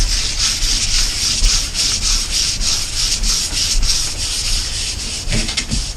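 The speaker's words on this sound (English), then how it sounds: "now I'm getting all clumsy with the sandpaper" Sandpaper rubbed by hand across a cured epoxy resin surface without a sanding block, a steady close scratchy rasp in continuous strokes, with a few brief sharper scrapes near the end and no voices.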